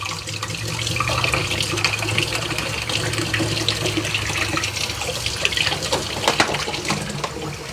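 Tap water runs steadily into a sink as fresh strawberries are rinsed in a home kitchen, a continuous close splashing stream with small irregular spatters.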